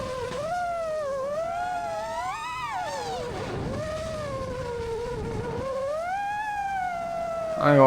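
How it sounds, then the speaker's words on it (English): Camera drone buzzing over the Glacier View car launch crowd, a steady harmonic whine that rises and falls in pitch as it maneuvers, close and loud throughout, with a sudden louder burst at the very end. "I ain't gonna lie, the drone noise? Terrible."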